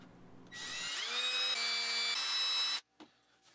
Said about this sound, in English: drill out some pilot holes